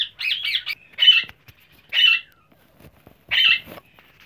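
A wild pair of ringneck parrots kept for breeding gives loud, harsh squawks, about four bursts with short gaps between them, close and without any voices.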